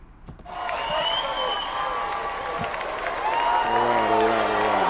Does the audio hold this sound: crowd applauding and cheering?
yes